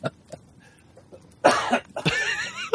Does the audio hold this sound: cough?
yes